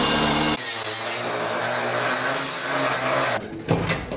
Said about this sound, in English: those old spring clips are shot, so we'll just grind those off